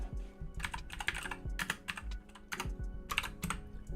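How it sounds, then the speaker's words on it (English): Fast typing on a Keychron K2 mechanical keyboard fitted with clicky blue switches fills the clip. The keystrokes are close, sharp and steady, with heavier thocks mixed in, and no one speaks. "I've got the Keychron K2 blue switches"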